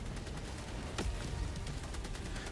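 Machine gun fire in the video game Helldivers 2, a dense continuous burst of rapid shots with a louder blast near the middle, heard alone without talk.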